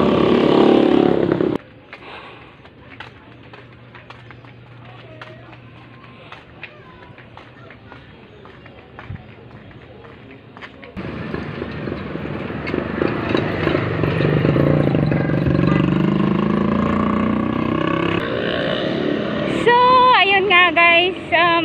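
Motorcycles pass along a street, their engines rising from a quiet stretch into a sustained, rumbling roar with clattering traffic noise, growing louder toward the end.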